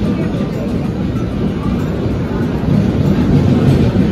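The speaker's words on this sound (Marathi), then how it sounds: "फायनली आपली एक्सप्रेस आलेली आहे" Siddheshwar Express passenger train pulling into a station, a steady loud rumble of wheels and carriages that swells slightly toward the end, with faint voices in the background.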